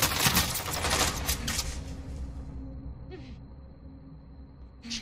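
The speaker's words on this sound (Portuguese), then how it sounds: "Opa, opa, tô tomando tiro" Dense bursts of rapid automatic gunfire from a Call of Duty Warzone match, loud and close for the first couple of seconds, then fading into quieter game ambience with a couple of short sharp sounds.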